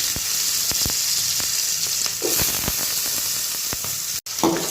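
Carrots sizzle in a hot pan with whole cumin seeds, a steady close frying hiss with occasional soft clicks of stirring, loud throughout and briefly cut near the end.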